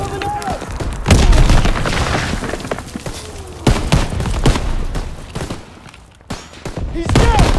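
Grenade blasts and battlefield gunfire in Call of Duty WWII's D-Day mission, loud heavy booms and sharp bursts repeating through the scene, with soldiers' shouted voices in the mix.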